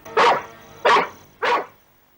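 Three loud, sharp barks from a dog named Bahadur, evenly spaced about half a second apart, close by, with no talk over them.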